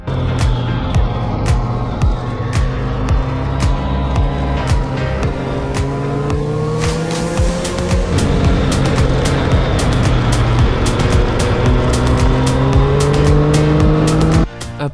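Steady motorcycle engine drone with rising and falling pitch as it accelerates and shifts climbing Mont Ventoux from Malaucène, loud and close throughout, with occasional sharp clicks.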